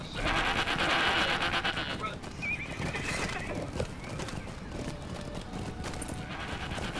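A horse neighs loudly in the Lord of the Rings Online game during a kinship raid, a shrill whinny followed by clip-clopping hooves and busy game effects over seven seconds.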